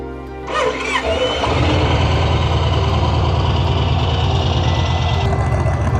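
A 2007 Yamaha XV1900 Stratoliner motorcycle on its original exhaust cranks briefly, fires up and settles into a loud, close, steady low idle with an even pulsing rhythm.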